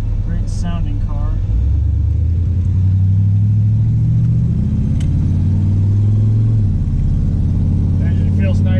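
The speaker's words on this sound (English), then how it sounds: "So it does have a nice rumble at idle and on throttle as well." A 1976 Corvette with side pipe exhaust rumbles at idle and under throttle, a loud, close, deep engine note that rises and falls as the revs change, heard alone without talk.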